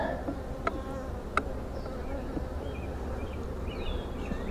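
Honey bees hum steadily all around an open hive, a close, continuous buzz with a couple of sharp clicks as frames are handled near the middle of the hive.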